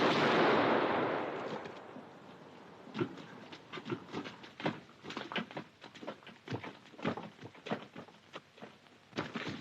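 Gunfire from a firing squad in a 1946 period film scene: a roaring burst, then a long irregular string of sharp cracks and thuds, moderately loud and fairly close, with no talking.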